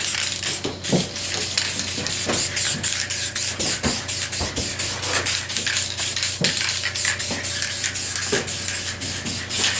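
Spray gun laying a heavier third coat of automotive paint during a repair, a steady close hiss of atomized paint running continuously with slight pulsing from passes.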